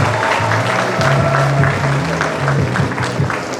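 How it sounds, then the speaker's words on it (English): A seated audience at a university inaugural lecture in Nigeria gives a dense, steady round of applause that fills the hall for nearly four seconds, with a faint hum beneath it. "Please give me a round of applause."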